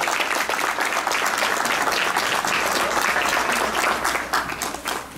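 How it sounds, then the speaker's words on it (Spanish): Loud, dense applause from guests at a fifteenth birthday celebration, sustained and even throughout with a slight dip at the very end. "El aplauso para la señora Mireya, por favor. El aplauso para ella."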